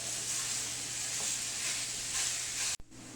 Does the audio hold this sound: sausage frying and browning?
yes